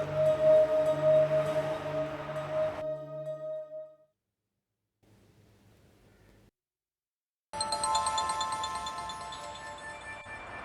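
A phone ringtone plays a short melodic tone for a few seconds, then stops, followed by a brief faint sound and then a louder musical passage.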